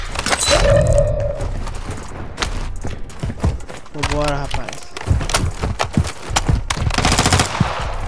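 Rapid gunfire bursts from the video game Call of Duty Warzone 2.0, crackling in loud clusters across the clip, with excited players talking over the shots.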